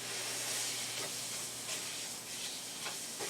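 Ground pork sizzles in olive oil in a pan, a steady broadband hiss holding throughout with small stirring bumps, close and moderately loud with no talking.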